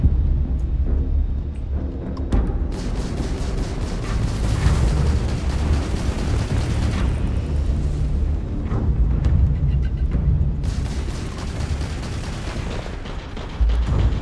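A missile is launched and explodes in a space combat video game, alongside a long, loud stretch of continuous booming blasts and gunfire-like bursts that rumble without pause.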